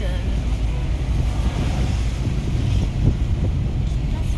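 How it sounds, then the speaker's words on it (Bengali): Cold wind blows across a mountain road near Manali at Koksar by the Atal Tunnel, a loud, constant roaring rush close to the microphone. "ঠান্ডা হাওয়া দিচ্ছে একদম।"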